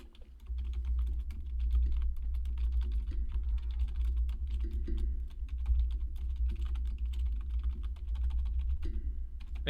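Rapid, irregular clicking of fingers typing on a computer keyboard continues for several seconds, close and clear over a low background hum.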